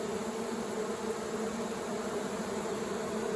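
Dense, steady buzzing of a swarm of honeybees milling around a hive, a continuous close drone holding evenly for the whole stretch with no voices.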